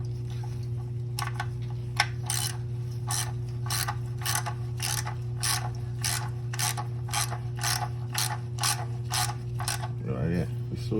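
A ratchet tightens a part during an oil change on a 2012 Lexus RX 350, giving a long, even run of crisp clicks close by over a steady low hum, with a brief different noise near the end.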